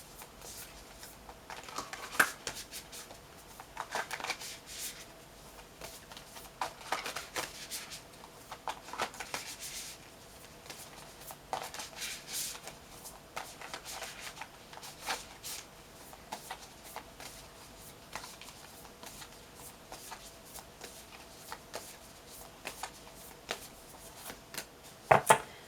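Tarot cards being shuffled and pulled for a spell card reading, a steady run of soft papery riffles and slides with brief louder flicks, close and quiet with no talking.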